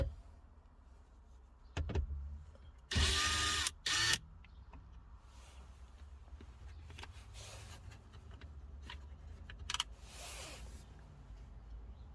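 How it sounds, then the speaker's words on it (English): A short whirring burst from a small electric driver removing a screw from a 2008 Toyota Corolla's dash, close by, amid scattered clicks and handling noises, with a second fainter buzz later. "taking your power tool here, or screwdriver if you want, and just take off this screw here"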